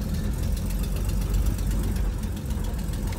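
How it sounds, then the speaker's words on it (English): A 1964 Chevy Nova barn-find engine idles roughly with an uneven, knocking rumble and a possible exhaust leak, loud and steady with no voices. "Yeah, this thing's running just a little bit rough."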